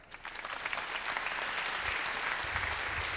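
A conference audience gives a warm round of applause to welcome a speaker to the stage, the clapping swelling quickly into a full, steady, close roar that holds to the end.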